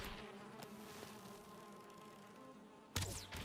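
Bees buzz steadily in Valheim, a faint continuous insect drone hanging over the game's ambience, with a brief louder swell near the end and no talk.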